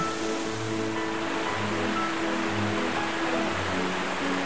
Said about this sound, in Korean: 골짜기를 따라 경쾌하게 흐르는 물소리 한번